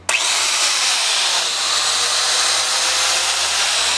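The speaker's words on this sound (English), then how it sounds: "electric chainsaw, extendable out" A steady, high-pitched motor whine from a Homelite UT43160A electric pole chainsaw runs loud and unbroken for the whole stretch, like a small electric saw cutting continuously.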